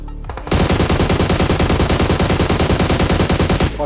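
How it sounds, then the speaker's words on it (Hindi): Sustained automatic gunfire in the PUBG Mobile battle royale game, a dense rapid burst of shots running for about three seconds at close range, loud and alone with no talk over it. "पीछे से भाई पीछे से कोई स्नाइप कर रहा है"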